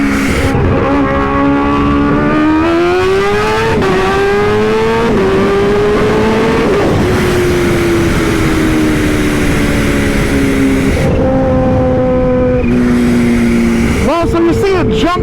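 A 352 hp Kawasaki Ninja H2 motorcycle runs at wide open throttle in first gear, with a loud, close engine wail rising through repeated climbs and shifts under heavy wind roar, ending in a quick burst of revs.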